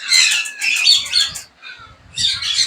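Sun conure parrot at a bird market, giving loud, harsh, piercing squawks in two bursts separated by a short pause, close and clear.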